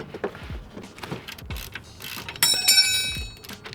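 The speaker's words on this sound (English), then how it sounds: "Now I'm gonna use another 15mm socket to go ahead and just break this power steering bolt loose." A 15mm socket ratchet clicks in quick repeated strokes, breaking a power steering bolt loose on a lowered BMW E30, close metallic ticking with a brief bright metallic ring late on, no voices.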